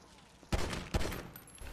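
Gunfire in the GTA Online video game: two sharp, loud shots about half a second apart, followed by a short rumbling tail, close by.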